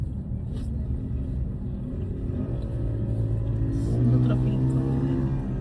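Road traffic heard from inside a moving vehicle, a low continuous engine rumble that swells as the car accelerates, with talk running over it.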